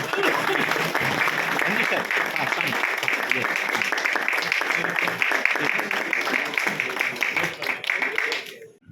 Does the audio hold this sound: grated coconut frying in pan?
no